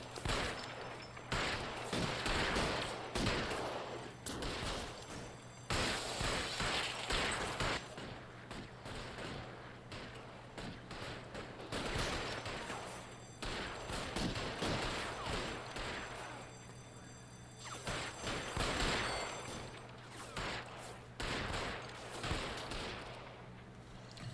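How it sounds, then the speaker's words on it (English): Bursts of gunfire in the LA Noire video game during a post office shootout, with repeated rapid volleys and fusillades, loud and close, over a steady low hum. "another shooting in the post office"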